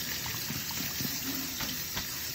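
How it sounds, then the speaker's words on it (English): Cold water pouring from a tap over drained instant noodles in a kitchen strainer, a steady, close splashing rush with no talk. "Immediately pour cold water on it."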